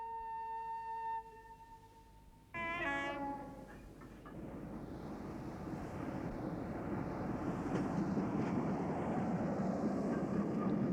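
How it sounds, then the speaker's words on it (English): A train horn sounds, then a steam train pulls away, its rumbling chuff and rolling wheels building steadily into a continuous, loud running noise with no talk over it. "When the train started,"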